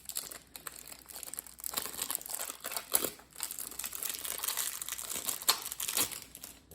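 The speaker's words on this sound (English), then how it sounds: "Sorry for the crinkling." Plastic packaging being handled and crinkled up close, continuous rustling with sharper crackles throughout and no voices.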